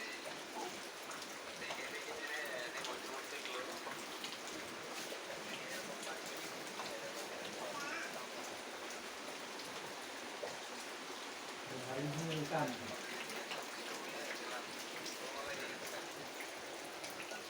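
Rain falls steadily outdoors, a soft continuous patter that stays faint and even, with a brief rustle midway.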